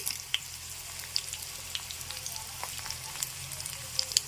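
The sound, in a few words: chana dal sizzling in oil for vakkaya pachadi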